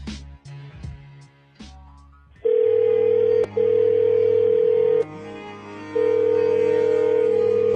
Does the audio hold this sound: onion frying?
no